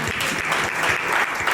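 An audience at a book launch event gives a dense, steady burst of applause, with many hands clapping together throughout.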